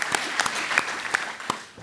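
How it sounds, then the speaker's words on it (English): Applause at a medical cardiology presentation, brief and fairly loud, with a few sharp individual claps standing out over a thin bed of clapping that fades near the end. "So there you are, a gigantic round of applause."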